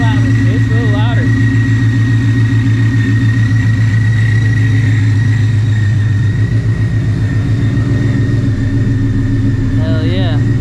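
A supercharged 900 hp Shelby GT350 runs loud and close, holding a steady, throbbing rumble with a rising rev at the start and again near the end. Speech sounds likely under the engine.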